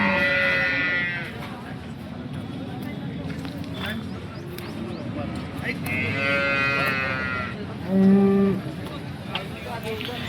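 Jersey cows lowing at the Sangola cattle market in Maharashtra, several drawn-out moos close by, one louder call near the end, with people talking throughout against market bustle.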